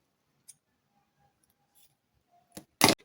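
Fabric being cut with scissors into a sleeve piece: a faint early snip, then quiet handling noise, and two sharp, close, loud snips near the end.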